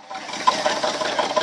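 Car engine running at an outdoor car show, a steady mid-pitched rumble with a slight rattle, close and continuous throughout with no talking.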